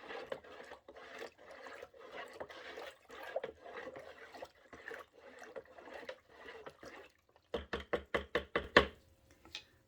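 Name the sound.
spoon stirring salt into water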